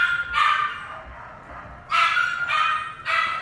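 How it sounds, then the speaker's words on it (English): Dogs in kennels bark in sharp, loud bursts, one early yelp followed by a cluster of three barks after a pause, captured on a DAT field recorder with quiet room noise between. "He's right there in the foreground where the dogs howl."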